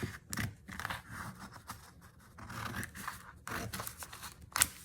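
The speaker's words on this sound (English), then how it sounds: "This, with my scissors, I think will go right about here." Scissors snip through a manila folder in a few crisp, close cuts with short pauses between them, ending in a sharper final snip.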